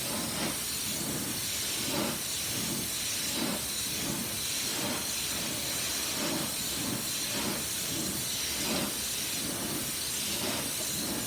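Spray paint hisses out of a can in a continuous, close, broadband rush, pulsing slightly as the nozzle sweeps back and forth across the surface in a steady rhythm, with no talking.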